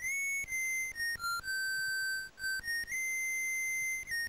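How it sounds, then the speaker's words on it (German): Protoman's signature whistle from the NES game Mega Man 3, a steady chiptune melody of clean, sustained electronic notes stepping up and down, moderately quiet and alone without voices. "Dieses Pfeifen, das muss Protoman gewesen sein"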